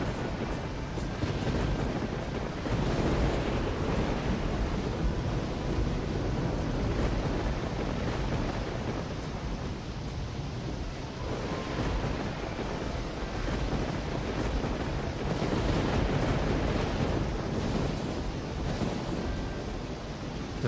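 Fierce storm wind in the Risen video game, a constant roaring rush blended with pouring rain and low thunder-like rumbles, swelling and easing in long waves over a sustained stretch.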